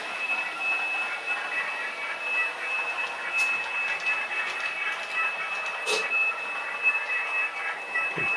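A model railway train on the Pacific East Coast layout runs at low speed after the brake is released, giving a steady mechanical hum with a thin, continuous high-pitched wheel squeal and a brief louder squeak, close by and without talk.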